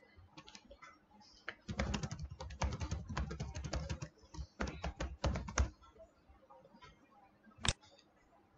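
Java code typed on a computer keyboard, with bursts of rapid key clicks in several runs, close and fairly quiet, pausing between phrases and ending with a single louder key tap.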